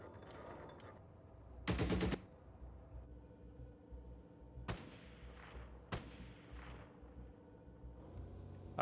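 A 14.5mm machine gun firing in a tank video game, a dense burst of rapid shots followed by a few separate heavy booms with decaying tails, fairly quiet overall.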